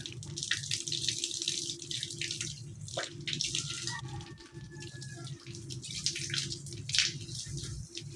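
Water splashes and trickles from a tap as the drinking containers of pet birds are refilled, a steady running stream with small bursts and drips, close by and heard alone.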